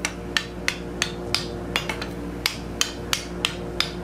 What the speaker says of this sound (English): It'll leave flat spots with your hammer blows